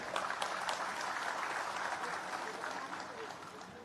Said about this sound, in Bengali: আপনারা একটু প্রাণ ঢালা অভিনন্দন জানাবেন, করতালির মাধ্যমে অভিনন্দন জানাবেন।